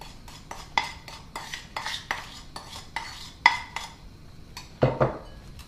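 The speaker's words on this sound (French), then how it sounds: "maintenant, je vais mélanger mes œufs" Eggs and sugar whisked in a bowl for homemade lemon curd, a steady run of clinking, scraping strokes of metal against the bowl, close and fairly loud, with no talking.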